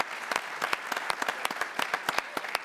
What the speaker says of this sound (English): I think that deserves a round of applause for it.